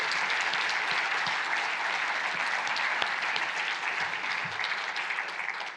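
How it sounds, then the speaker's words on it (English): An audience at an EU agriculture conference applauds the interpreters with steady, dense clapping that holds at an even level for the whole stretch, with no voices over it. "this applause that you now start, can we do that for the interpreters?"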